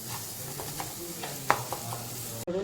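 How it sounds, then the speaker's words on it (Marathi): Coconut and onion paste is stirred in hot oil for a Konkani-style chana dal curry, giving a close sizzle broken by scraping stirs and one sharp clink of a utensil against the pan near the end. "ते वाटण एक चमचा मी टाकले त्यालाही आता व्यवस्थित आपण तेल येईपर्यंत परतून घ्यायचं आहे"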